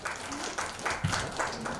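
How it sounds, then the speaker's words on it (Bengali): Audience applause at a 2024 theatre festival gathering, a steady burst of clapping from the crowd lasting just under two seconds at moderate loudness. "একটা জোরে হাততালি হয়ে যাক।"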